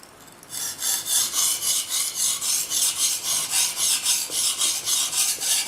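A Japanese nakiri knife is stroked across a 320-grit whetstone in steady, even rasping passes, about three per second, close and loud with no talk.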